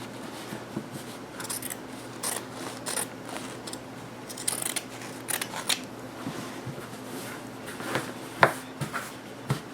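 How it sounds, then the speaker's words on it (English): Scissors cutting down a shirt sleeve along its seam, a series of soft close snips and fabric rustles, steady and quiet, with no voices. "Cut down the sleeve right there at the seam."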